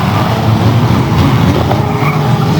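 A race car spins and skids on a raceway, its tyres squealing continuously and loud, close by, with engine roar underneath throughout.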